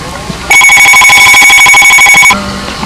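A telephone rings once in a single sustained electronic burst, loud and close, amid quiet room noise in a workshop where aircraft flaps and a vertical stabilizer are being built.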